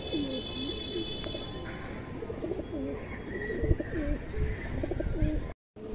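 Caged pigeons coo in a steady series of low, rounded calls, fairly close and continuous over a faint background hum, with a brief dropout near the end.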